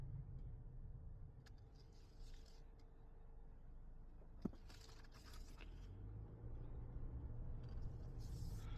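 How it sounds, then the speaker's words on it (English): Cabin of a 2024 Subaru Forester Wilderness while driving: a quiet, low road rumble and tire noise run steadily throughout, with a few faint clicks and rattles inside the cabin. No one speaks. "We're just gonna silently drive so you can hear how quiet this vehicle is."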